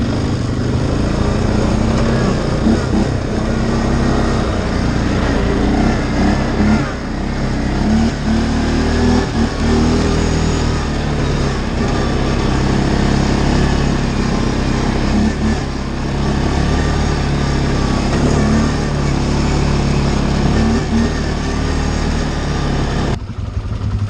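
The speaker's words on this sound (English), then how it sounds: "Get on the CFMoto, high gear." A CFMoto 500-class ATV engine pulls hard in high gear, a loud, steady drone that stays close and strong for the whole stretch, with no voices over it.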